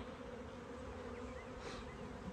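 Honey bees buzz steadily among the frames of an open hive, a close, continuous drone with a harmonic hum and brief swells as individual bees pass near.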